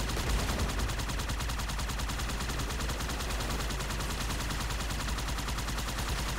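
Dense, continuous gunfire from enemies in the video game Halo 2, with rapid overlapping automatic bursts sustained loudly throughout and no talking.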